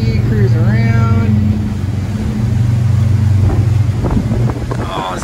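A motorboat engine drones steadily at a low pitch while the craft moves across water, with heavy wind buffeting the microphone throughout.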